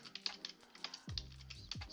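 Someone types keyboard shortcuts on a computer keyboard while coding in C#, with quick light key taps in irregular bursts and a few heavier thumps, close and quiet.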